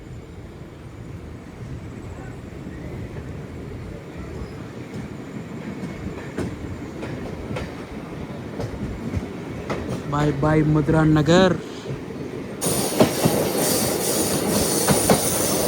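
A Bhimavaram to Vijayawada MEMU 67282 passenger train runs at night on the Chennai–Kolkata main line, with a close, continuous rumble and wheel clatter, a short spoken farewell, and noise rising louder near the end.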